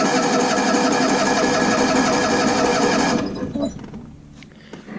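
A Cushman Truckster engine runs steadily and loudly with the choke partly on, a dense buzzing drone that holds for about three seconds, then cuts away sharply, leaving only faint low rumbling and small knocks.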